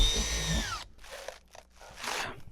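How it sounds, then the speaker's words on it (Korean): Power drill boring through the thin steel roof of a Renault Master van being converted to a camper, a short whine then gritty grinding bursts, close and loud. "철판 얇아가지고 잘 뚫리네요"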